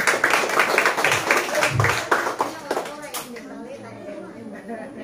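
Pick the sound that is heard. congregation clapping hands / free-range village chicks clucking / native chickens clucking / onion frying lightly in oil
congregation clapping hands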